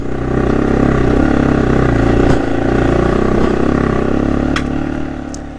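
AJP PR7 adventure motorcycle engine idling and pulling as the clutch is feathered on a hot, hilly trail, a steady close-up rumbling drone with slight rises and clatter before it eases off at the end.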